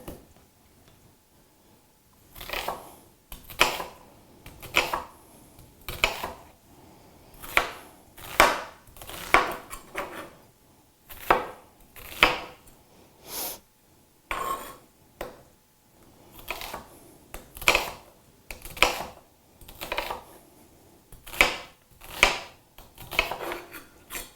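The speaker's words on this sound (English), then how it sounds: "Okay, cut up this onion." A knife chops an onion on a board in short bursts of crisp, close cuts, several quick strokes per burst with brief pauses between, and no talking over it.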